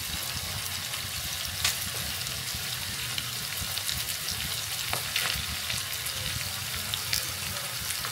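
Garlic sizzling in a hot pan with onions for a Ganesh festival naivedya dish, a dense, steady close frying crackle with occasional light stirring clicks.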